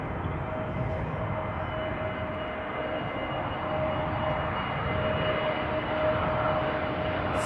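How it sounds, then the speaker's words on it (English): An EasyJet Airbus A320neo arrives at Amsterdam Schiphol, its engines a moderate, steady distant drone with a faint whine, slowly swelling as it approaches. "An A320neo from EasyJet arriving next"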